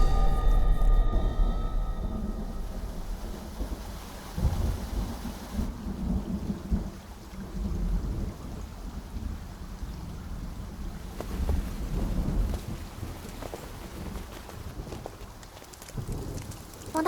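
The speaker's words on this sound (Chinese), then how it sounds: "下雨了" Rain falls steadily, with a loud rolling thunderclap at the start fading into continuous rainfall and a few later low rumbles.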